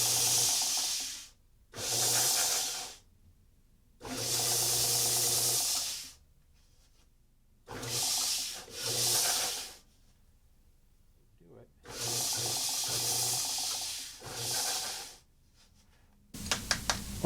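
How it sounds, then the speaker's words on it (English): Foot-switched convex radius disc sander working a guitar neck for a Mini-Taylor neck reset, hissing in repeated bursts of one to two seconds with short silent gaps. "We'll take that down as well on the radius sander"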